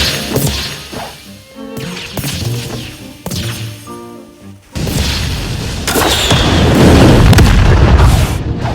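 Rocket explosions in an online multiplayer game come as heavy booming blasts with whooshes and crashing debris, several loud hits followed by a sustained rumbling roar.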